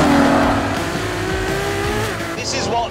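A 950-horsepower Ferrari hybrid supercar accelerates hard, its engine note climbing loud and close in one sustained surge with a brief gear change, and a voice speaks briefly over it.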